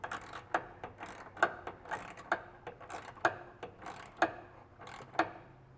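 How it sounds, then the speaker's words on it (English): A small 1/4 inch hand ratchet tightens an engine mount bolt on a Toyota MR2 in rapid, close-up clicking bursts that repeat in uneven strokes, quiet and without talk. "I'm just doing it by hand, using this little 1/4 inch."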